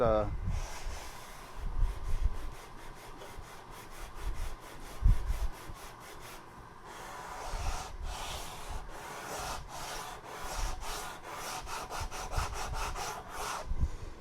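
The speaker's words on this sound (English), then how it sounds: "I'm sanding, you know, just to get that knocked down" Rhythmic back-and-forth strokes of sandpaper rubbing the wooden neck of a handmade bajo quinto by hand near the 12th fret, close and steady, with a short pause partway through.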